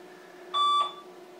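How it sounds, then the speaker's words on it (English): A home security alarm system emits a short electronic beep of about a quarter second, a steady high tone confirming it is armed, clear against a quiet room with a low background hum. "the alarm beeps like that at the end to confirm that the system is armed"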